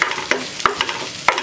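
Curry leaves sauté in a pan under a soft sizzle, broken by several quick scraping clicks of a spoon stirring against the metal, close and fairly faint.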